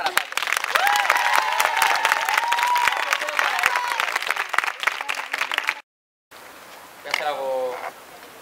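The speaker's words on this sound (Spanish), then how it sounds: "Así que un aplauso para Pablo." A concert audience in Madrid applauds a studio collaborator, dense clapping and cheers over a held musical tone, then a brief silence before a short sung or played phrase.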